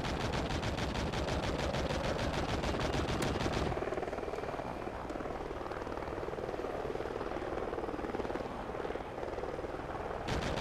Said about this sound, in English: Friendly Helo pilot active.